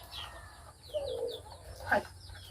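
Caged egg-laying hens cluck and chirp softly at close range, a few short calls and one louder squawk near the end over a quiet farm background.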